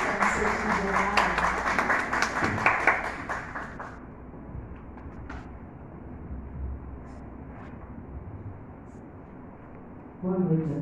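An audience at a poetry soirée claps to welcome a guest: dense, lively applause for about four seconds that fades away, then a quiet room with a voice speaking.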